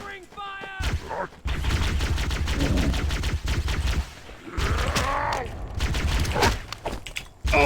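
Bursts of rapid video game gunfire from Grub's Cursed Halo, loud and close, crackling in repeated volleys with mechanical clanks, while a voice talks over parts of the action.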